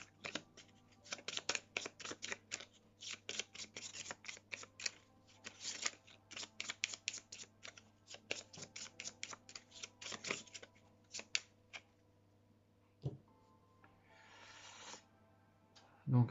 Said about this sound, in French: Donc on va remélanger.